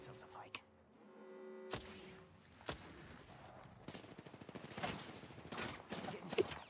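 Gunfire in the Apex Legends video game rattles in rapid bursts over a steady hum, with scattered single thuds early on and denser, louder volleys toward the end.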